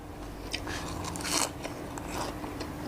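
Seafood papaya salad with shrimp, squid and clams being chewed up close, crisp crunchy bites and chewing noises over a noisy background.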